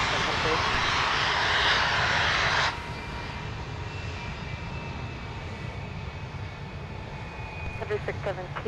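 A Boeing 757 at MSP airport roars steadily with engine noise, a loud broadband rush that drops in level partway through and then holds a lower whine.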